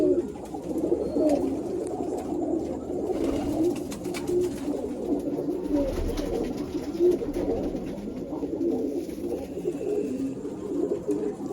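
Golden jiriya line breeder pigeons keep up a dense, steady chorus of low rolling coos at close range, layered and continuous with no talking.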